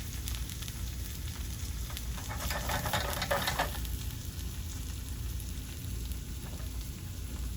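Red onion and vegetables sizzle and crackle as they caramelize in oil in a pan, a steady close frying hiss that swells briefly with louder crackling before settling back.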